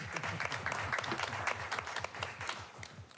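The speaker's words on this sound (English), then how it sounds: "Let's give her a big round of applause" Attendees at a school board meeting give a round of applause, a lively, dense patter of many hands clapping steadily throughout.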